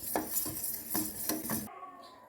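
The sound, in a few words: stirring boiling milk in a pot for coconut payasam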